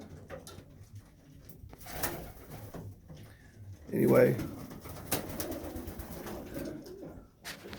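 Pigeons in a pigeon loft give soft, low cooing calls, one swelling louder near the middle, alongside rustling and occasional clicks. Someone talks quietly at the start.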